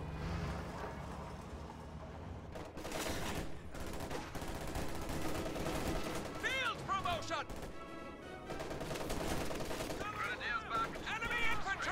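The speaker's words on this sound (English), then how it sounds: "Incendiary artillery, just for good measure." Video-game battle of German forces fielding a field gun, Jagdpanzer and Panzerschrecks, with incendiary artillery and gunfire bursting through a busy mix, sharp blasts and crackling volleys at moderate distance, while a commentator talks over it.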